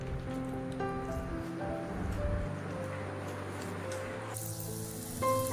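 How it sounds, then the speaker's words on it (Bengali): Puris deep-frying in hot oil give a steady, moderate sizzle that runs through the whole stretch, with a tonal hum or music-like drone in the background and a brief louder swell near the end. "দেখো পুরি কটা ভেজে নিচ্ছে এখন"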